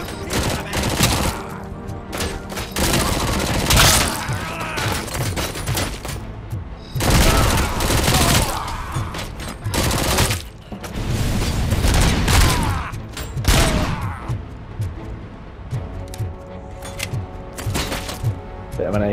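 Rapid bursts of AK rifle fire from the video game Robocop: Rogue City, loud and close, repeating in clustered volleys with mechanical clatter and booms between shots.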